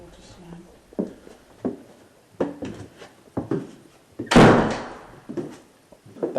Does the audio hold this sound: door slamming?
yes